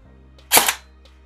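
A brushless-motor airsoft gun fires a single semi-auto shot, a sharp loud crack with a brief mechanical whir just around it, close up against a faint electrical hum.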